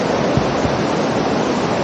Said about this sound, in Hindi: साथ साथ सरस्वती नदी बह रही है,